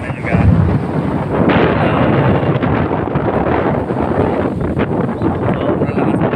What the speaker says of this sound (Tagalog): Sobrang lakas ng amihan.